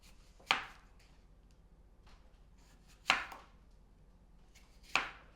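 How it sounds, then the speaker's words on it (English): A knife slices down through a whole apple, cutting the sides off in three separate sharp cuts spaced a couple of seconds apart, each a crisp crunch against a quiet kitchen background with no talking. "Just cut it 4 pieces off of that apple."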